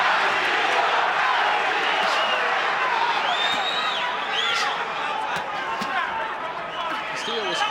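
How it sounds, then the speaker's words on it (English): Boxing arena crowd during a bout, a dense roaring mass of voices with rising chant-like swells and scattered shouts, steady and loud throughout. "Crowd chanting Castillo"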